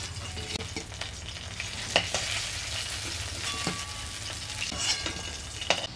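Singi fish frying in oil, a steady low sizzle with scattered crackles and pops, quiet and close, no talking.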